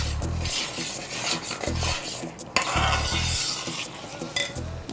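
Steady scraping and rasping of a spoon stirring chopped apple as it roasts in ghee in a pan, with faint sizzling throughout and repeated low thuds from the spoon against the pan.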